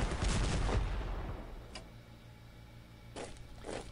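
Artillery fire in the wargame Strategic Command WW1: one heavy, booming blast that rolls and fades over a second or so, then a few faint clicks and softer thuds, with no talking.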